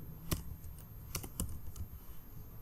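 A handful of sharp keystrokes on a computer keyboard, scattered irregularly over a quiet background with no one speaking.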